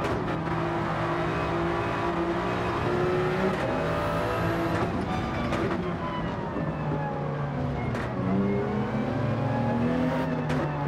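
Toyota GR Supra race car lapping Interlagos in a racing video game, a steady loud engine drone with shifting revs and gear changes throughout, other cars close by and no talking.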